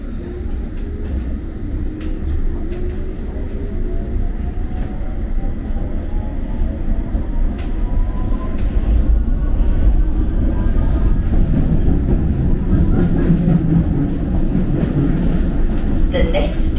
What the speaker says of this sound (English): This is a District Line train to Ealing Broadway.